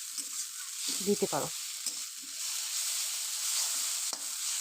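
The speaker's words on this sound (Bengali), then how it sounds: "এটা আমি খুব ভালো করে নাড়াচাড়া করে নিচ্ছি যাতে লেগে না যায়" Egg chow mein with a little tomato sauce being stirred in a pan, steady frying hiss throughout with a brief burst of speech near the start and faint utensil scrapes.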